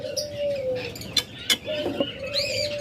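A pair of yellow-collared lovebirds at close range give short chirps and squeaky calls, with a sustained tone and a couple of sharp clicks among them.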